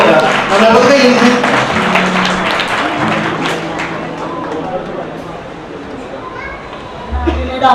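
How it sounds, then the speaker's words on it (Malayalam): Wedding guests applaud for the groom's mother in a hall, a continuous loud mass of clapping mixed with crowd chatter and children's voices. "ഒന്ന് കൈയടിച്ച് അമ്മച്ചിക്ക് വേണ്ടി"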